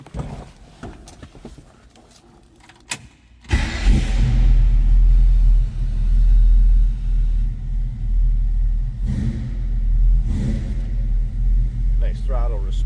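A 1967 Ford Mustang coupe cranks and catches after a few quiet seconds, then settles into a loud, deep, rumbling idle with several throttle blips swelling and fading, heard close up.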